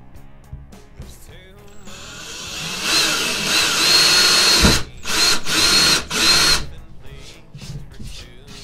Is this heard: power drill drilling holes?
yes